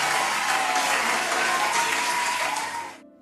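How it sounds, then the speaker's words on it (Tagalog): A stadium crowd cheers and applauds loudly and steadily during a school festival, the dense clapping and shouting holding for about three seconds before cutting off abruptly. "Suddenly, they cheered so audibly that people outside the stadium were able to hear the crowd."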